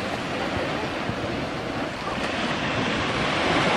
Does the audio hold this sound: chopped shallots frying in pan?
no